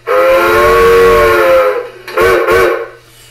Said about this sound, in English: And same thing, let's blow our whistle.